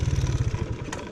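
Worn, low-compression TaoTao 110cc engine sputters roughly with an uneven low chugging pulse, close and fairly loud, sounding on the verge of stalling.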